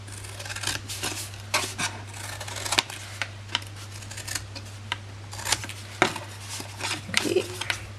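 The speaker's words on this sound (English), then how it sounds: "going to notch out our end flaps and just roughly cut them in half" Scissors cutting the end flaps of a large card gift bag, a series of sharp close snips, some single and some in quick pairs, spread unevenly over several seconds above a low steady hum.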